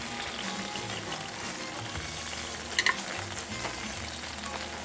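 Meatballs brown in a frying pan, giving a steady, moderate sizzle with faint shifting and stirring sounds and a brief double clink partway through, with no talking.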